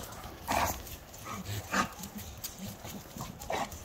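A young American Bully dog whimpers and jumps about in short excited bursts, close by, with scuffling between the cries.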